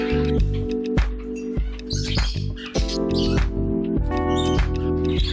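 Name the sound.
pet birds chirping at feeding time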